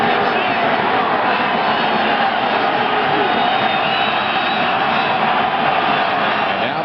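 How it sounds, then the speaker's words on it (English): A stadium crowd roars at Delaware Stadium during a football game, a dense continuous wall of cheering and shouting with no breaks, loud and close. "And now the crowd becoming a factor here at Delaware Stadium once again"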